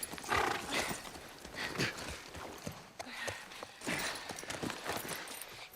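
Horse hooves clip-clopping in the video game The Last of Us Part 1, a steady walking rhythm of close hoof strikes throughout, with faint background voices.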